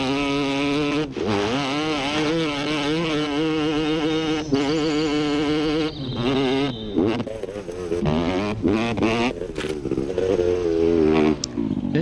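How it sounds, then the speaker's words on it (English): A motorcycle engine in the video game Laika revs hard and continuously for about twelve seconds, the pitch rising and falling with throttle and dropping out briefly in a few spots. "I'm gonna tear this motorcycle clean up again."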